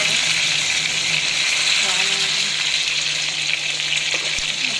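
Tofu with egg and soy sauce fries in a pan, a loud, steady, close sizzle with bursts of bubbling and stirring, while a voice talks over it.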